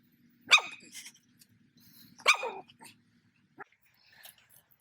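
A dog barks indoors, two sharp, fairly loud barks about two seconds apart, followed by a few softer huffs and faint sounds in an otherwise quiet room, with no talk.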